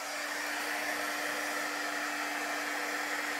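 A hair dryer blows over chalk paste on a craft project, giving a steady, loud whirring rush with a constant hum and no talking.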